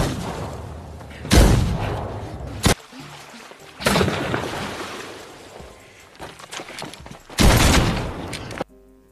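A dramatic gunfight from the 2018 film The Sisters Brothers, with several loud booming gunshot volleys spread apart, each trailing into echoing reverberation over a rumbling background.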